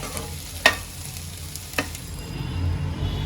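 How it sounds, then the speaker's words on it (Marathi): Ivy gourd (tendli) fries in oil in a kadai, a steady low sizzle broken by two sharp clinks of a spoon against the pan, the frying noise swelling slightly toward the end. "पाच मिनिटं मी तोंडलीला चांगलं तेलामध्ये फ्राय करून घेतलेलं आता ह्याला मी काढून घेते"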